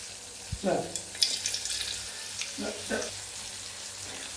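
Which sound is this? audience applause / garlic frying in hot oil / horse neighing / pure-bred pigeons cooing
garlic frying in hot oil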